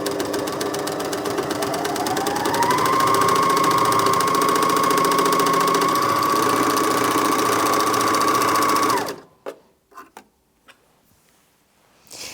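A Janome MyLock 454D overlocker stitching a seam at a steady moderate speed without cutting, a loud continuous mechanical whir with a rapid ticking rhythm that stops abruptly, followed by a few faint clicks.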